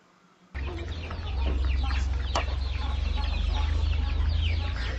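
After a brief quiet moment, a flock of native chickens on a farm clucks and chatters continuously over a low steady hum, busy and nearby.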